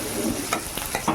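Green chillies, garlic, shallots and curry leaves sizzle in hot oil for mutton kuzhambu, with a steady close crackle and a few quick stirring scrapes, with no speech.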